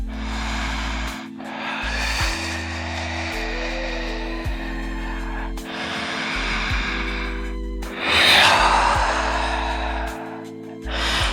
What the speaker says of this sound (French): J'expire. J'inspire.